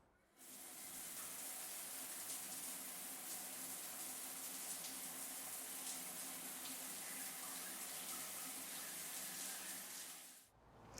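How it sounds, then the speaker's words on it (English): Harvested tomatoes being washed under a running kitchen tap, a steady, close hiss of flowing water that starts abruptly, runs evenly for about ten seconds and then cuts off. "let me wash some of the tomatoes that we harvested"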